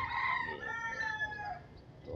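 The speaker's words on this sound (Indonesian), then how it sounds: "Ayam. Ada ayam juga di kota juga." A rooster crows once in a city setting, a single drawn-out, wavering cock-a-doodle-doo at moderate distance with no voices over it.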